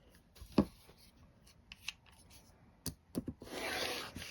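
Fabric being cut for a quilt block, a few close snips and soft scrapes of a cutting tool, ending in a longer rasping slide, with no talking.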